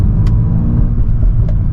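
A 2024 VW Golf R MK8.5 facelift rumbles loudly with its engine revving, deep exhaust drone throughout and a couple of sharp crackling pops from the exhaust breaking through the roar.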